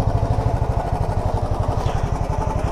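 A motorcycle engine idles close by in a resort parking area, chugging with a fast, even pulse that stays steady and fairly loud throughout.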